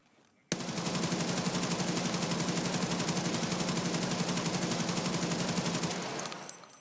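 An AK rifle fitted with a 60-round drum magazine fires in a video game raid, one long continuous burst of rapid automatic shots, loud and close, after a brief quiet start.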